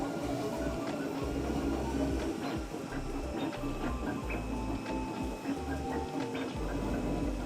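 A Trident 3D printer runs loudly and continuously close by, with rhythmic motor whirring, ticking and rattling from its moving parts.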